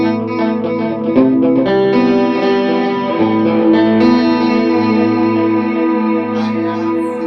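Electric guitar sent through an Echo Park delay set as a slight stereo doubler, ringing out sustained chords and notes with a widened, chorused shimmer and soft echo trails, loud and alone with no voices.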